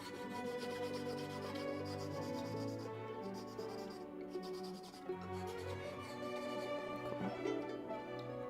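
Craft-store cork rubs back and forth along violin strings to strip off built-up rosin, a continuous close scratchy rasp with slight swells in loudness and no talking.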